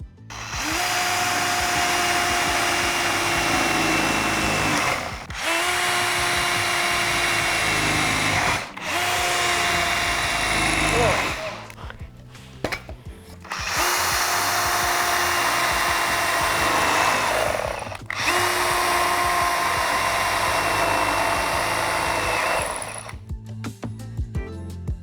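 A power tool grinds a flat steel piece for a Volvo 850R in several long, loud, high-pitched bursts separated by brief pauses, heard up close with no talk.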